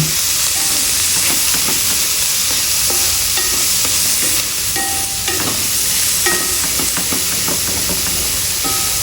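Tomatoes and onion hit hot oil with okra, a dense steady sizzle filling the pan with scattered clicks of stirring against the pot, loud and close with no talking.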